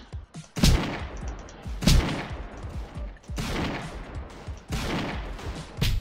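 Heavy sniper rifle firing in a video game, four loud booming shots spaced about a second apart, each followed by a long rumbling tail, with no talk.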